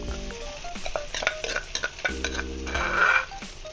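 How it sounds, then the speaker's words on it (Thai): Thai curry paste stir-fried in hot oil in a pan for an eel dish, giving a close, steady sizzle with scraping stirring strokes and a few utensil clinks over several seconds. "น้ำมันเริ่มร้อนเราก็ใส่พริกแกงลงไปผัด"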